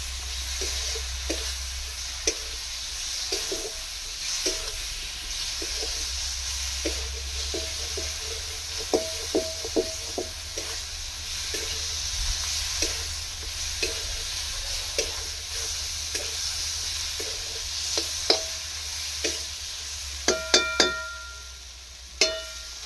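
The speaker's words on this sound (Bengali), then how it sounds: "মশলাটা খানিকক্ষণ কষবো" Spice paste (masala) sizzling steadily in a pan while a spatula stirs it, giving soft scrapes and intermittent metallic taps that grow louder and quicker near the end.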